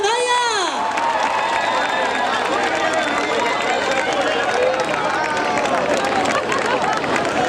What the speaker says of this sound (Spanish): Brindándolle un aplauso o eixo que soe grande para París de Noia.